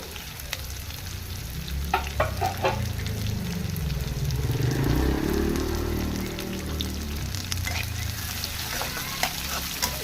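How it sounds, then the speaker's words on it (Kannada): Grated beetroot palya ingredients fry in a pan with a soft, continuous sizzle, punctuated by scattered crackles and stirring scrapes at moderate volume. "ನೋಡಿ ಇದರ ಚೆನ್ನಾಗಿ ಫ್ರೈ ಆಗ್ತಾ ಇದೆ ಫುಲ್ಲು ಗೋಲ್ಡ್ ಕಲರ್ ಆಗಿದೆ"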